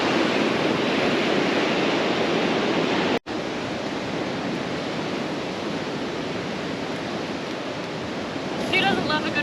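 Steady broadband wash of surf on a pebble beach at Pebbly Beach on the Coffs Coast, continuous and fairly loud throughout with a brief dropout partway through.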